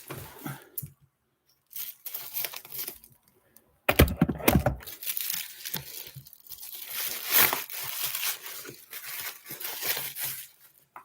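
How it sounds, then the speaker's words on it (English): Close, crisp crinkling and snipping as scissors cut open the plastic packaging of a 4K Ultra HD Blu-ray collector's edition in short, irregular bursts, with brief quiet pauses between. "I'm gonna open the rest of this with some scissors."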